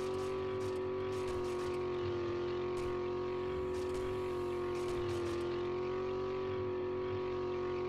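A 4x4 truck engine in 7 Days to Die holds a high, steady rev, a loud sustained whine with faint rattling bursts over it and no pauses.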